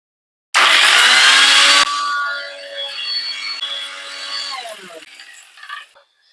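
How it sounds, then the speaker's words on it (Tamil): A mixer grinder jar whirs loudly as it pulverises spices for prawn thokku, a harsh high-pitched motor roar that drops off after about a second and winds down with rattling and fading whine. "இப்ப நல்லா பொடியா அரைப்பட்டிருக்கு"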